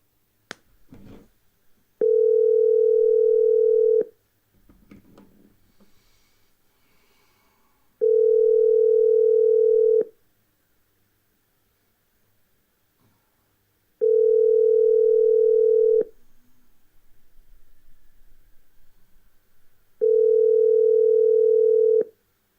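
Telephone tones while a call is being placed: four steady two-second tones sound at regular intervals, with faint handling noises in the quiet gaps between them.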